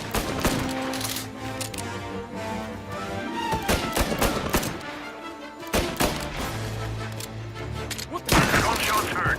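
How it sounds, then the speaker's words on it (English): Dense, rapid gunfire from the video game Mafia I, bursts of shots layered over a busy soundtrack with brief loud blasts near the end. "Gunshots heard."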